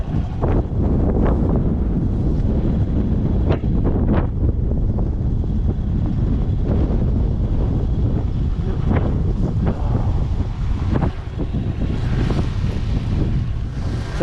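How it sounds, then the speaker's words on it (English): Strong headwind buffets the microphone on a small Honda Supercub postie bike during a long South Australian road trip, a loud continuous roar with gusty low rumble throughout and no talking. "This wind is driving me nuts."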